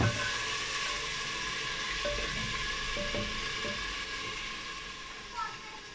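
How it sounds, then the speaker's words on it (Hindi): Chicken pieces fry with chopped onions in a pan for a radish chicken curry, giving a steady, close sizzle that runs unbroken throughout, with faint clinks and stirring noises underneath. "अच्छी तरह हम फ्राई करेंगे चिकन को प्याज के साथ।"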